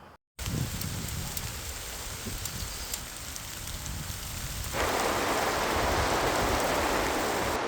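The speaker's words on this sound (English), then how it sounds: "it's tipping down with hailstorm" A hailstorm pelting down over an allotment garden in spring, a dense, steady patter of hitting ice that jumps to a louder, harsher roar partway through and then stays heavy.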